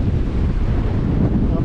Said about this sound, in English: when the waves break or the whitewash gets blown off,